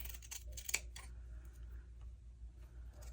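Scissors cut through the edge of a paper page during scrapbook page making, giving a few quiet close snips in the first second over a low steady hum, then near silence.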